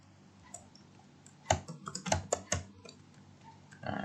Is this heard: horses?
no